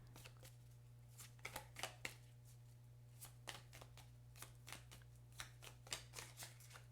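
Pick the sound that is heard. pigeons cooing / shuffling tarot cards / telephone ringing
shuffling tarot cards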